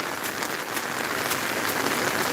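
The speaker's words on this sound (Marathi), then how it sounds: "प्रचंड मोठ्या प्रमाणावर सुरू असलेला हा पाऊस निसर्गाचं सौंदर्य फुलवत आहे" Heavy rain pours down steadily, a dense loud hiss of drops hammering surfaces with no break.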